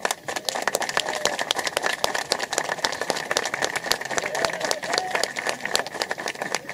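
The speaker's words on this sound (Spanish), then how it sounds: "y le quiero dar un fuerte aplauso" A crowd at a political rally in Uruguay applauds, a dense, crackling patter of many hands clapping at a steady level throughout, with faint voices scattered beneath it.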